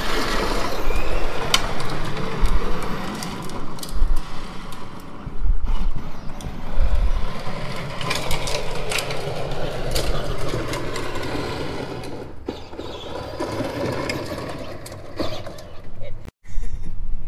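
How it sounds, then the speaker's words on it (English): Stock Power Wheels ride-on toy car motors pushed to 84 volts whine and grind with a rough mechanical drone, surging and dipping in loudness over the span with a brief cutout near the end. "We got up to 84 volts with the stock power wheels."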